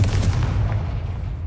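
Bombarda and Confringo explosion spells cast in the video game Hogwarts Legacy, heard as heavy booming blasts with a deep low rumble that stays steady and loud for the whole stretch, with no voices.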